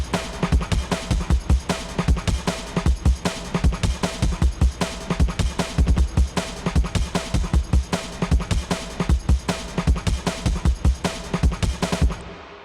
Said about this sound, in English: So the drums all together sound like this.